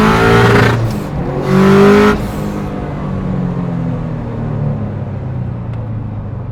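Subaru GC8 with a GTX2860 turbo revving hard in short loud bursts, then the wastegate releasing with a hissing flutter as the engine settles into a lower rumble, recorded close.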